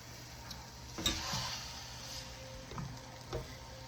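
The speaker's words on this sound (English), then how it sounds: "I want to get this all crumbled up and cooked with this onion" Sausage and onion crumbled and stirred in a pan, giving a soft steady sizzle with a few sharp scraping taps from a meat squasher, close up and without talk.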